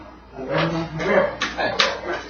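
A dog barks and yips in a series of short, close bursts, with a voice speaking around them.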